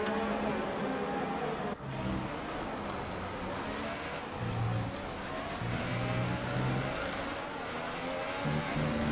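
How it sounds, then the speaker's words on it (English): Race car engine in the F1 2018 video game, heard from the onboard view with a knock in it, roaring steadily and loud through the whole stretch with uneven low pulses and shifting pitch. "Definitely hear a knock in the engine when you get that onboard camera view."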